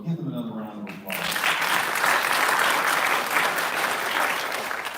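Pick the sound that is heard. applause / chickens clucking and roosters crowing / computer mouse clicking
applause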